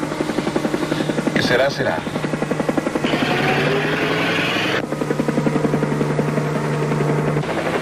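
A helicopter's rotor chops and its engine drones steadily and loudly throughout, with people talking over it.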